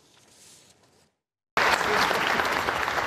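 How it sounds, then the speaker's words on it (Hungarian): A large full-house crowd applauding Orbán Viktor at Subotica City Hall: quiet murmur, a short silence, then loud dense sustained clapping close by. "Hatalmas taps és teltház fogadta Orbán Viktor miniszterelnököt a Szabadkai Városházán."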